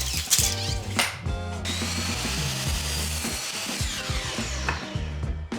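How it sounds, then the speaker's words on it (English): Screws are driven with a power drill into the top wooden framing of a pocket door opening, with short bursts of whirring and grinding, brief pauses and close, moderately loud handling noise. "I'm going to fasten the screws up in the top"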